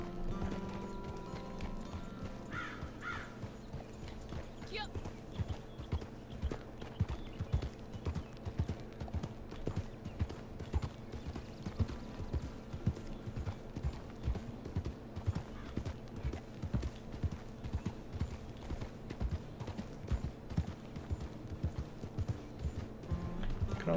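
Horse hooves clip-clop steadily in a video game, a continuous rhythmic trotting at moderate volume that runs throughout with faint mechanical rattling and no talk.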